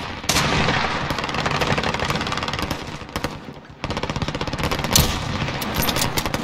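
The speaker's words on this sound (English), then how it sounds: "Who the hell's shooting me?" Loud, close bursts of automatic gunfire rattle almost without pause in a Call of Duty Warzone match, one short gap breaking the rapid fire before it resumes.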